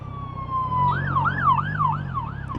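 Emergency vehicle siren passing on a road, a loud, close wail that shifts into a rapid rising and falling yelp over a steady engine rumble, no talk.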